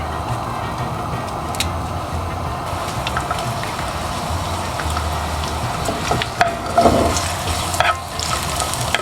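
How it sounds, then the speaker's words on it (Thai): Garlic and ginger stir-fry in a couple of spoonfuls of hot oil, a close continuous sizzle with rustling stirs and a few louder scrapes near the end. "กระเทียมกับขิงเอาลงไปผัดเลยนะคะ"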